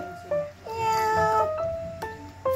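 Several hungry pet cats, one named Mochi, meow repeatedly at close range, their calls overlapping in long, rising and falling cries with short pauses between them.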